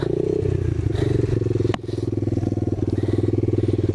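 A 2019 Apollo 125cc motorcycle engine revs steadily and loudly while stuck, its rear wheel spinning with a fast rattling pulse, a brief clatter breaking in midway.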